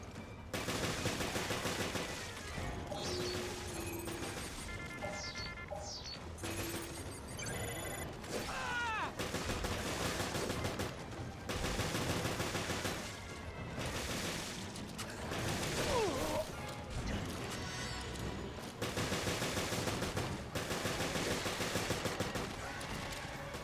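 Repeated gunshots fired at an invisible hunter creature in the video game Resident Evil Revelations on Infernal difficulty, bursts recurring over game music and mechanical clanks, with occasional talk.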